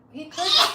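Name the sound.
sneeze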